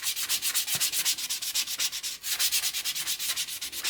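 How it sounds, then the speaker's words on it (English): Fingertips rub back and forth over an MDF board coated in gesso, making a steady, close, dry scratchy swish in fast regular strokes with a brief pause midway. "when I rub my fingers over the bit I haven't done and the bit I have done"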